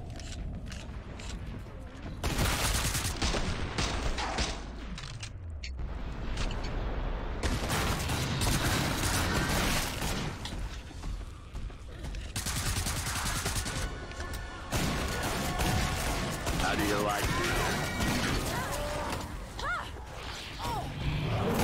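Dense, loud gunfire from the co-op shooter Killing Floor 2 pours out in near-continuous bursts and rattling volleys with crashes and mechanical clatter, under players talking.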